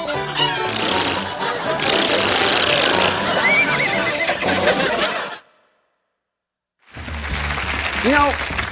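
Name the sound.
horse neighing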